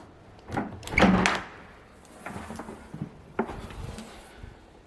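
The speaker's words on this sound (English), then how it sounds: "I'm getting good at opening church doors." A heavy church door clacks at its latch, gets pushed open with scraping and knocking, and then thuds shut in a series of close, irregular impacts.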